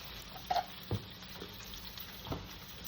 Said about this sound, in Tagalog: So, kumukulo na yung mushroom soup natin.